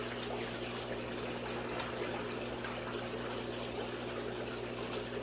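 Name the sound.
rinsing ceramic bead filter media under running water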